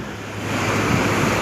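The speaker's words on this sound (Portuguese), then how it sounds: "A água tá subindo os capôs dos carros." Floodwater from heavy rain rushes over a street deep enough to reach car hoods, a loud, steady roaring wash close by with no talking.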